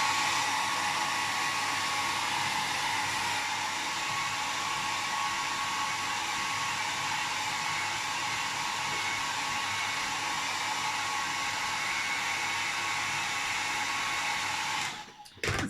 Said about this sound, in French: Je vais sécher au sèche-cheveux pour que ça aille plus vite